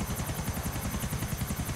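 Helicopter in the video game GTA 4, a loud continuous rotor thump with rapid regular pulsing blade chop, close and steady, with no voices.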